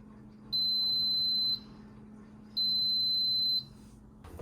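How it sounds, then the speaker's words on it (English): A low cost resin 3D printer signals completion with two long, steady electronic beeps, each about a second, separated by a short pause, sounding clearly over a faint constant machine hum. "Once it's done, it will make like 3 beeps or something"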